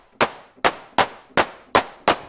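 Six synthesized trap 808-style claps made in Serum with the rate turned up, evenly spaced and punchy, each a sharp bright burst with a short noisy tail, alone with no talking.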